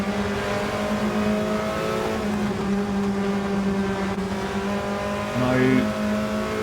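Onboard a BMW Mini Cooper S Cup race car at Watkins Glen, the engine drones steadily at high revs with a shift and brief rise near the end, close and loud throughout.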